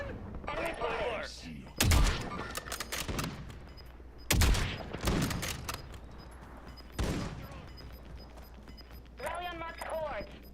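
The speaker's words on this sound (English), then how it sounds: "Enemy fire." Enemy gunfire in Call of Duty Warzone on the Verdansk map comes as three loud, sharp bursts spread a couple of seconds apart. Game voice chatter talks between and over the shots.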